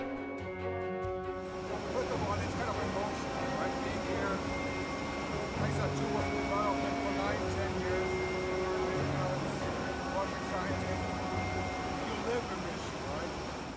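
A steady airplane engine drone fills the cabin at about 1,500 feet, with a voice speaking continuously over the constant background roar.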